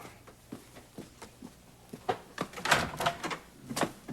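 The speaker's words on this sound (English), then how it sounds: "get the door." A door opening and closing in a scene from the 1989 soap opera Another World, heard as a few soft clunks and rattles amid quiet footsteps and handling noise at close range.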